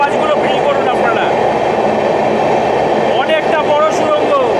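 Inside a 22-coach train passing through a long tunnel, a dense continuous rumble fills the space, loud and close, with thin screeching wheel squeals rising briefly near the start and again toward the end.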